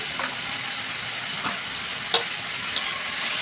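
Pineapple pieces with salt, turmeric, cashews and raisins are stirred in a pan, giving a soft, steady sizzle with a few faint scrapes and clicks of the spoon.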